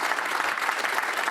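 Audience applause for a panel at a Manchester event, a dense, steady wash of many hands clapping that stays loud and even throughout with no voices above it.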